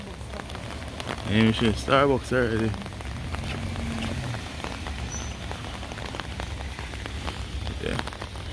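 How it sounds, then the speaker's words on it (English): Steady rain patters over a seaside fishing village in Ocho Rios, Jamaica, a constant hiss lasting throughout, with people talking briefly near the start. "Rainy day in Ocho Rios."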